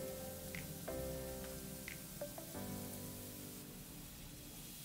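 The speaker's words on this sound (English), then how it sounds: "Take those minced shallots and we're going to saute them." Minced shallots sauté in olive oil in a pan, giving off a faint, steady, rain-like crackle close by with a few small pops, while a low hum runs underneath.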